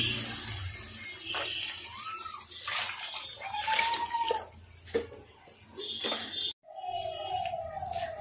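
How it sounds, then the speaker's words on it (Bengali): Cold water poured into mutton curry as it cooks makes a steady pouring, splashing rush with a brief break near the end, and bits of clear talk over the top. "এবার এর মধ্যে জল অ্যাড করব।"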